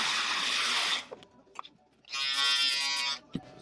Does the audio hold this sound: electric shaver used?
yes